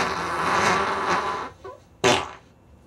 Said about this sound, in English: Where else can you play fart sounds on the radio?